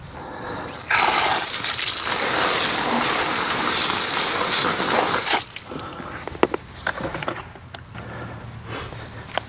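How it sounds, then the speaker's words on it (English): Spoke wheel rinsed with a steady spray of water, a loud continuous hiss for about four seconds that then cuts off, leaving faint drips and small clicks. "Give it another rinse."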